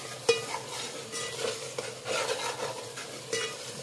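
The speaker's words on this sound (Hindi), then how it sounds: "अच्छी तरह से, भून लेंगे।" Chopped green chilies stirred in a hot pan, with a steady sizzle of frying under repeated scraping strokes of a spoon against the metal.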